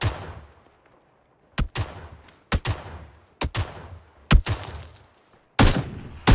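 Gunshots in the video game PUBG: six sharp, loud single reports spaced roughly a second apart, each followed by a short decaying echo, with near silence between them.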